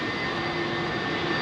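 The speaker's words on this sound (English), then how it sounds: "Listen to this 767, man." A Boeing 767 climbs out after takeoff from London Heathrow, its jet engines giving a loud, steady roar with a constant whine throughout.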